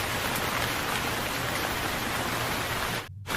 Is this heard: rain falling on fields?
yes